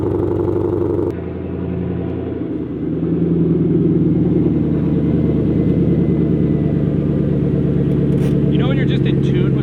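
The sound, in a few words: 2005 Ford GT engine starting and car pulling out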